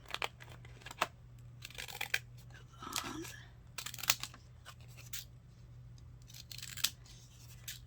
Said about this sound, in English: And then it just cuts it to look like a stamp.